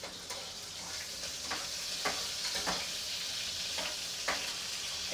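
Parwal, pointed gourd, frying in a pan gives a steady close sizzle with a few sharp clicks of stirring scattered through, alone without speech.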